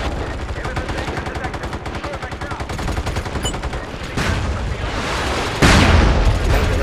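Gunfire in the online shooter MAG in a fight around the docks: fast, rattling automatic bursts that go on steadily, then heavier booming shots and a loud blast toward the end.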